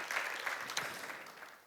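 A church congregation breaks into brief, fairly distant applause, a burst of many hands clapping that fades away within about two seconds.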